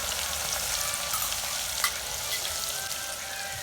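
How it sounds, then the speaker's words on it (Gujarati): Mustard seeds, cumin, asafoetida and ginger-garlic paste sizzle in hot oil, a steady bright crackling fry with a few louder pops, heard up close with no voices. "તેલ ગરમ થઈ છે અડધી ટીસ્પૂન રાઈ જીરું અડધી ટીસ્પૂન હિંગ એક સ્પૂન આદુની પેસ્ટ એક સ્પૂન લસણની પેસ્ટ"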